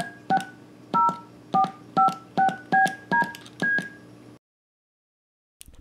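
Prototype Eurorack synthesizer module producing a series of about ten short, evenly spaced beep-like tones, clean and moderately loud, over a faint background hum and followed by brief silence.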